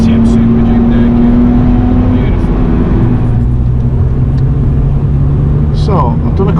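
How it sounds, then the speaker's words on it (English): A KTM Super Duke naked motorcycle on the Nürburgring passes close by, its rising engine note sweeping over the loud, constant drone of the car's own engine and road noise. "You've got a bike that's got to come up your inside, I think. Yeah, he is. KTM Super Duke naked."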